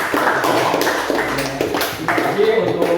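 Classroom group of students clapping for a presenting group, a dense patter of hand claps spread across the clip, mixed with voices talking over it.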